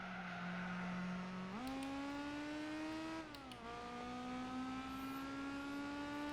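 A race car with a racing exhaust in Gran Turismo 4 holds a steady, buzzing engine tone that climbs through two quick upshifts, then settles at a higher pitch.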